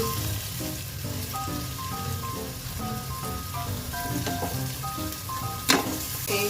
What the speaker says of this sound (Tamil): பாருங்க, வெங்காயம் நல்லா ஃப்ரை ஆகிட்டு இருக்கு.